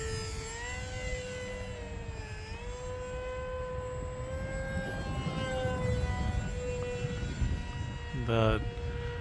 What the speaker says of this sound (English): I just knew I wanted to get out and fly the Aeroscout because of the wind.